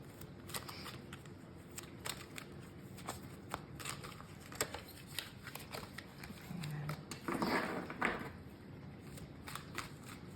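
Tarot cards being shuffled before another draw, a steady series of soft slaps and crisp flicks close to the mic, with a brief denser rustle near the end and a faint voice murmuring once.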